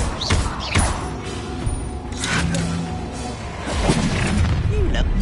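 An Incendio fire spell is cast in Hogwarts Legacy on PS5, giving heavy booming bursts and thuds amid creaking combat effects, with a voice talking over the action.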